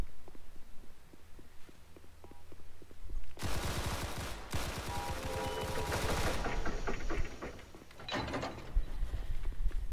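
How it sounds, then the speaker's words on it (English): Automatic gunfire in the video game SCP Site Apollo, one loud close sustained burst with a brief gap partway through, followed by fainter scattered shots and ambient game noise. "Love the gunshots in the morning."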